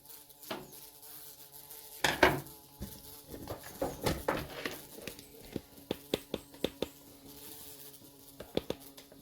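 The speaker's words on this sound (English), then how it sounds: "even the flipping bees come in here" A buzzing bee hums close by, joined by a series of sharp clicks and taps that grow more frequent toward the end.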